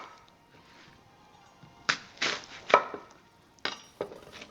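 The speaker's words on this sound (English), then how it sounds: "Just cut into pieces like this." A knife chops red onion into pieces on a cutting board, giving several sharp, close knocks in an uneven cluster after a quiet start.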